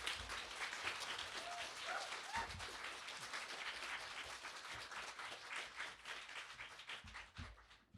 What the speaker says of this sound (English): And another round of applause for our photographer